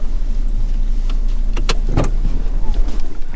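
A car's handbrake is pulled during a driving lesson, heard as a couple of brief mechanical clicks over the steady low hum of the idling engine inside the cabin.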